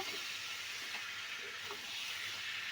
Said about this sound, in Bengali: এবারে চিকেনটা দিয়ে আমরা ভালোভাবে নাড়াবো